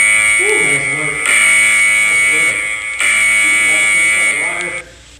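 A workout interval timer buzzer during a strength HIIT session sounds as a steady, loud electronic drone for about five seconds, shifting slightly in level, with a coach's voice talking over it.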